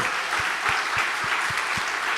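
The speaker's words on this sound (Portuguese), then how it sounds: "Você pode dar uma salva de palmas para o Senhor?" Applause from a church congregation at a Sunday morning service, steady and dense throughout, with a few louder individual claps standing out in a regular rhythm.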